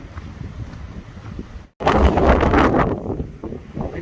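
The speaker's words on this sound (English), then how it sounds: "a very blustery day today. Lots of dancing trees, lots of wind" Strong gusty wind on a ridge of the Appalachian Trail roars across the microphone and through tossing trees, loud and close, swelling into a heavy buffeting gust after a brief cut.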